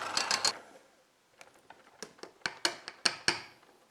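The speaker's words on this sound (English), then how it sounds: "So in we go with our whisk, and I'll show you again once we're done because this is loud." A whisk whips chantilly cream in a bowl, giving a quick burst of sharp metallic clicks, a short pause, then a run of rhythmic ticking taps against the bowl.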